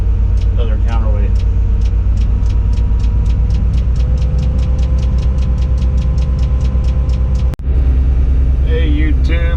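A truck hauling a house backs in with its engine idling loudly, while a rapid, regular reverse beeper pulses over the rumble for several seconds. Brief voices can be heard at the start and end.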